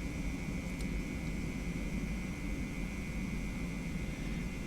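Boeing 717-200 engines spooling at takeoff thrust in a flight simulator, a steady broadband roar with a sustained whine, continuous and even throughout.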